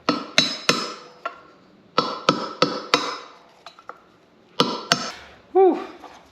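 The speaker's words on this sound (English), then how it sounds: "with the hammer till it hopefully just changes tone to where I know it bottoms out" A hammer taps a front wheel bearing race into a 1968 Ford truck hub. There are sharp metallic strikes, some in quick groups of two or three, with short pauses in between. The strikes are close and clear, with no talk.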